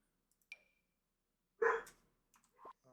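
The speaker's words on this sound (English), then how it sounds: "my dogs are being obnoxious" Dogs barking indoors at a distance, a few short, separate yelps and barks with quiet gaps between them, faint against a near-silent room.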